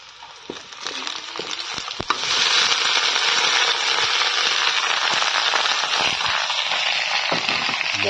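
Meat added to fried onions in a hot pan for a local poultry curry, a sudden jump into loud, dense sizzling and crackling that continues steadily with scattered pops.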